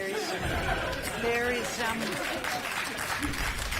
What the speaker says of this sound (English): Scant applause for a cheap point.